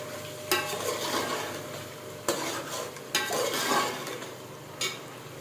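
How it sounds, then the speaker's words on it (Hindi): Meat browns in hot oil as it is stirred, a continuous loud sizzle punctuated by a few sharp clinks of a spoon against the pot. "ये देखें बस ये भून जाए तो काफ़ी गल गया गोश्त माशाल्लाह"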